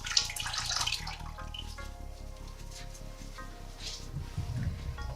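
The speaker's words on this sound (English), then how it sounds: "I would wet my washcloth" Water runs from a tap onto a washcloth, a soft steady splashing and trickle with some wet squishing, close and fairly quiet.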